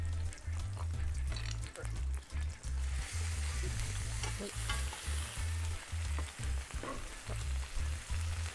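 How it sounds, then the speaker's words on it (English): Lamb chops sear in olive oil in a hot pan, giving a loud, constant spitting sizzle over repeated low thumps from the pan. "Searing our lamb, I'm gonna add a little bit more olive oil so we can do both at the same time"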